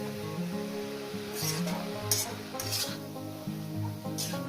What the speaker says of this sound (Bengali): দেখছেন বন্ধুরা কত সুন্দর করে শাকটা ভাজা রান্না করছে